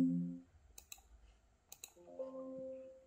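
A computer mouse clicks a few times, in close pairs, during an iPad 6th generation jailbreak and iCloud removal. The clicks are crisp and near, with a low electronic hum at the start and end and no talking.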